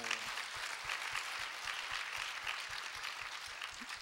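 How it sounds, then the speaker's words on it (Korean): A church congregation at a Bible school gives a round of applause, a steady wash of clapping heard at a moderate distance with a faint rhythmic low thump underneath. "우리 하나님께 감사의 박수"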